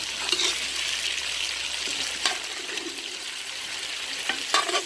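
Vegetables being stirred into pork frying in a pan for Cajun pastalaya, a steady broadband sizzle with occasional scraping stir strokes, close and moderately loud, no talking.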